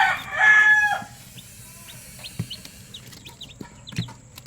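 Small chicks peep in short, high chirps scattered across a quiet farm setting, following a loud rooster crow at the start.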